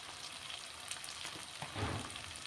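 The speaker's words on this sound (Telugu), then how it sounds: "దీన్ని కూడా ఒక్క నిమిషం ఇలాగా ఫ్రై చేస్తాం" Ground spices such as coriander, cumin and garam masala fry in hot oil in a pan for egg potato kurma, giving a soft, steady crackling sizzle with a brief louder spurt near the end.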